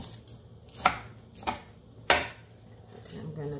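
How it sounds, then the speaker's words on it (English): A knife chops spring onion (scallion) on a board for Jamaican beef patty filling, giving a few separate sharp knocks spaced irregularly, then quieter shuffling. "Chop up my spring onion, or scallion as we normally call it."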